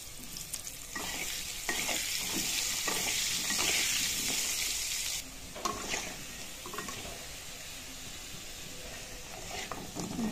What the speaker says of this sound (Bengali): কেটে রাখা আলুগুলো দিয়ে একটু সময় নিয়ে ধীরে সুস্থে লাল লাল করে ভেজে নেব।